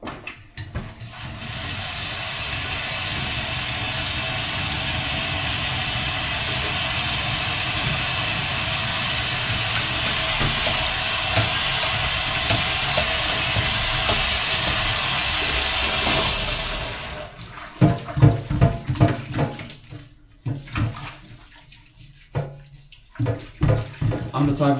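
A pan being washed in a kitchen sink: steady loud running water splashes for about seventeen seconds, then stops and gives way to scattered clanks, rubbing and handling noises.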